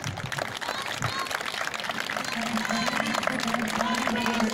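A crowd at a political party rally in Turkey applauds in a continuous crackling roar that holds steady throughout, with faint voices mixed in.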